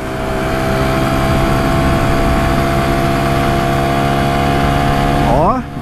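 A 2021 Honda Pop 110i motorcycle holds top speed in its last gear, a loud, steady, buzzing engine drone with a constant pitch that dips near the end as the throttle eases.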